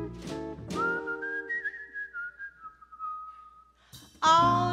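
A person whistles a little tune, a clear sustained melodic line that bends and slides in pitch, nearly alone and close, with a louder musical entry at the end.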